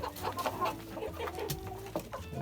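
Golden rooster with a golden breast, kept as a laying hen flock, clucking in a quick run of short calls close by, with soft farmyard background and no talk.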